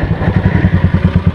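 A dirt motorcycle on a trail gives a loud, close, rhythmic engine chug, a dozen quick regular pulses in little more than a second.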